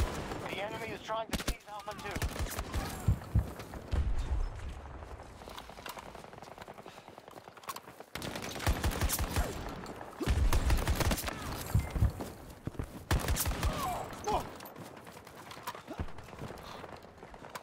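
Rapid automatic gunfire in a Battlefield 2042 multiplayer match, dense bursts of close shots recurring throughout, mixed with game noise and a player talking over it.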